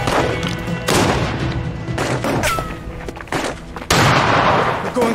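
Gunshots from a sniper in the video game As Dusk Falls: several loud booming shots and thuds at irregular intervals over dense game sound, with a strong blast near the end.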